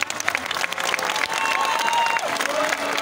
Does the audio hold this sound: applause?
yes